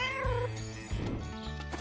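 A cat meows, with a drawn-out, wavering cry near the start and softer mewing after it, alongside other faint sounds.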